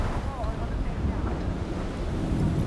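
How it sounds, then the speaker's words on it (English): Strong storm wind buffets a sailboat running close hauled with two reefs in the sail in the Labrador Sea, a steady loud roar of gusts and waves across the deck, continuous and close to the microphone. "Wind's picking up, so putting in the reef again."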